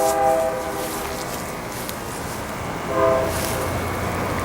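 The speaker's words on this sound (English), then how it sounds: "We'll have to wait for the train to go by" A train rumbles past with steady rolling noise, its horn sounding at the start and again near the end.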